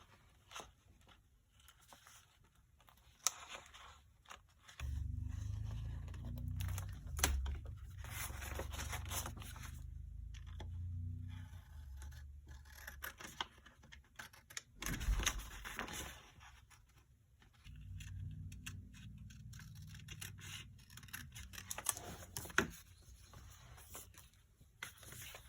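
Paper trimming on the white edge of a gel plate print, heard as soft close scraping and cutting strokes in several stretches with quiet pauses between, no talking.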